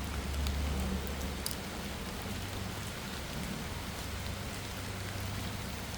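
Steady rain falling near the Giant Buddha overlooking a highway entering Chiang Mai, with a dense, even patter and hiss, close and continuous, with no voices.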